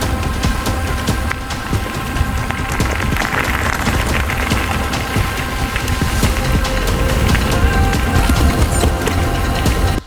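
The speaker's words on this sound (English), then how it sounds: "it's bucketing it down with rain now." Heavy rain pours down outdoors in Scotland, a loud, dense and unbroken patter and hiss of drops striking surfaces close by for the whole stretch, with no voices.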